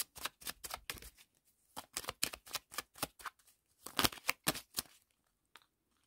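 Angel oracle cards are shuffled and drawn by hand, heard up close as a rhythmic run of sharp riffling and slapping bursts with brief pauses, fading to a couple of soft taps.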